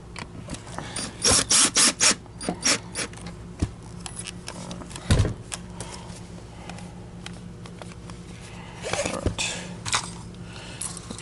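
A torque driver set to low torque works on a Miele H1 S194 Quick Step Universal upright vacuum during a full disassembly repair, giving bursts of ratcheting, rasping tool noise with clicks and rattles at close range and no speech.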